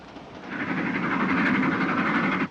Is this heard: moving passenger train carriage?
yes